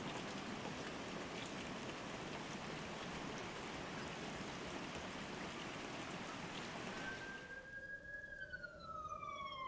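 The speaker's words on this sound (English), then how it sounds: "The rain is stopping." Steady heavy rain pours across a scene in the video game The Glass Staircase, a dense hiss that fills most of the clip, then cuts away near the end as a rising tonal whine takes over.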